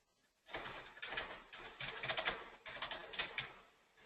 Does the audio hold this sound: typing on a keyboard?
yes